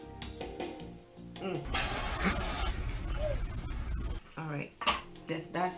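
Ben Nye Final Seal makeup setting spray hisses out in a steady close-up burst of a couple of seconds, with a voice talking before and after.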